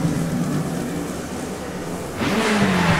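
A racing car's engine in RaceRoom Racing Experience hums steadily, then revs up sharply near the end with a rising, whining pitch, loud and close with no talk.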